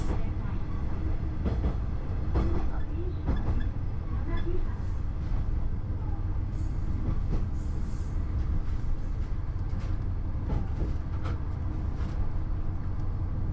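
A train rumbles steadily with low mechanical noise and occasional clanks as it rolls into Yanagihara Station in Japan, a continuous heavy drone close by.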